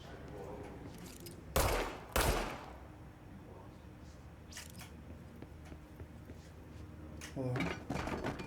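Gunfire in the video game Control, two sharp loud bursts close together early on and more shots later, with a voice talking over the game sounds.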